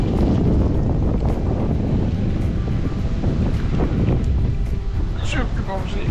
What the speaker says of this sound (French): Trop de vent, tu disais.